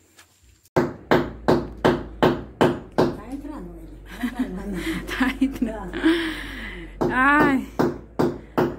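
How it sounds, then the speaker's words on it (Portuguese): Hammer strikes on a nail going into a very hard wall, about ten sharp, evenly spaced blows with a pause in the middle while someone talks and laughs close by. "tem que saber como é que bate o martelo pra o prego entrando bem devagarinho"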